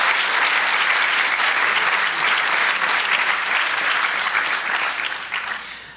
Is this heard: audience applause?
yes